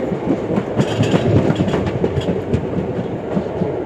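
Ahmedabad–Somnath Intercity Express train rolling along the rails, heard from on board as a loud continuous rumble with rhythmic clickety-clack of wheels over rail joints.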